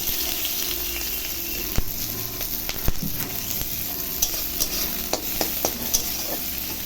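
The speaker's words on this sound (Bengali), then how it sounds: "পেঁয়াজটা একটু লাল লাল করে ভেজে নিলাম" Chopped onion, green chilli and ginger sizzle with cumin seeds in hot oil as a pan dish is stirred, a steady frying hiss with sharp scraping clicks of the spoon scattered through it, close and loud with no voices.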